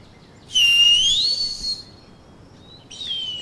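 A bird call in the Yesterday Origins video game: a clear, rising whistled note holds for about a second, then a shorter, fainter whistle follows, both alone over a quiet background.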